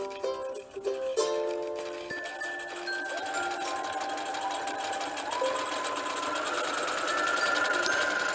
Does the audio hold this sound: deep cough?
no